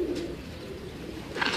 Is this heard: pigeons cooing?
yes